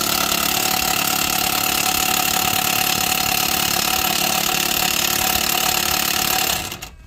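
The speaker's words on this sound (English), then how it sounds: "I'm about to take the intake bolts off" A power tool rattles loud and steady, close by, as it removes the intake bolts during a QR25DE engine swap, running without a break for several seconds before it stops.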